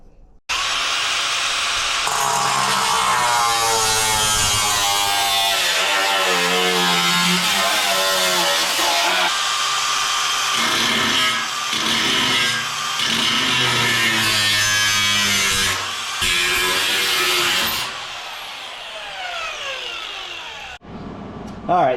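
Loud power tool cutting rusted sheet metal on the lower front quarter panel and rocker of a 1957 Chevy, a continuous close whine and grind with shifting pitch for about eighteen seconds, then stopping into quieter shop noise.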